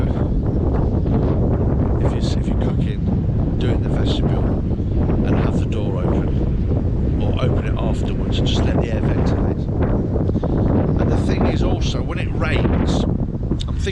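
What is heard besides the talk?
wind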